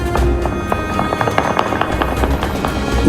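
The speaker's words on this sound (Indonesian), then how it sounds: "Warga melepaskan tembakan bertubi-tubi ke udara untuk merayakan dimulainya gencatan senjata." Celebratory gunfire in Beirut, Lebanon, marking the start of a ceasefire: rapid, dense bursts of shots fired into the air, crackling continuously and somewhat distant against steady background noise.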